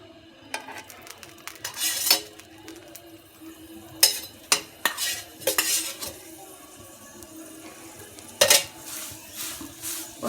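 A cauliflower paratha cooking in ghee on a griddle, with intermittent metallic scrapes and clinks of a spatula and a faint sizzle beneath, bursts spaced irregularly.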